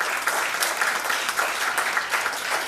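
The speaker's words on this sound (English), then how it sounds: "Can we have the loudest round of applause to begin with?" An audience at a buyouts summit applauds, a dense, steady wash of many hands clapping in a hall, moderately loud throughout.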